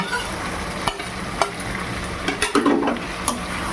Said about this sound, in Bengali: এইবার আমি এই যে চিংড়ি আর পেঁয়াজগুলোকে ছেড়ে দেব।